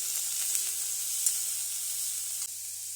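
Onions sizzle steadily with curry leaves in a hot pan, a soft continuous frying hiss with a few faint stirring scrapes and no voices.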